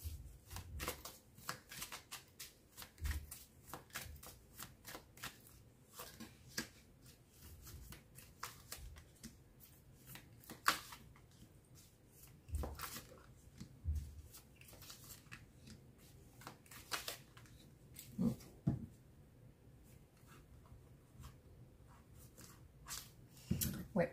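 Tarot cards being shuffled by hand, a steady run of soft riffling flicks and slaps that continue close up for the whole stretch, with quiet handling noise between bursts and no talking.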